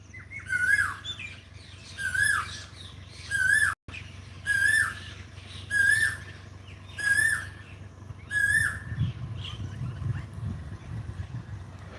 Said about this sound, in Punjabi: ਕੋਇਲ ਦੇ ਗੀਤ ਸੁਣਾਉਂਦਾ ਸੀ ਤੁਹਾਨੂੰ